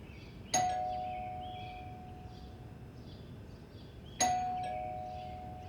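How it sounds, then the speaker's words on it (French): A doorbell rings twice, each press a single bright chime that rings out and slowly fades, the two about three and a half seconds apart, fairly close against a quiet room with no talking. "La sonnette encore?"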